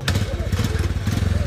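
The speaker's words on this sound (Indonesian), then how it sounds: "Papakiramdamin niya muna yung motor na may drum." A motorcycle engine runs close by with a drum tied onto the bike, a loud, rhythmic chugging putter with regular pulses throughout.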